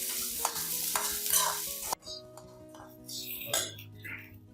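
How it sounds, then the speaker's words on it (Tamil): Onions sauté in a pan for a green pea kurma, with stirring scrapes and a frying sizzle that drops off abruptly midway, followed by quieter pan sounds and brief voice noises. "இதை வந்து நல்லா வதக்கிட்டு"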